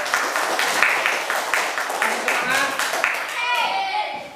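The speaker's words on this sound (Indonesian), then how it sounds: "Tepuk tangan." A primary school class of fourth graders clapping their hands together, a dense burst of many small hands in a classroom, with children's voices mixed in and fading toward the end.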